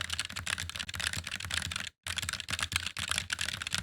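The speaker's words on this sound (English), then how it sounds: "And this one is going to be the new Vulcan II Mini." Fast typing on a Roccat Vulcan II Mini optical keyboard, close-miked, with sharp, dense keystroke clicks running steadily apart from a short silent break midway, no speech.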